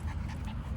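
A dog pants rapidly and close up in a short burst of quick, breathy huffs, with no one talking over it.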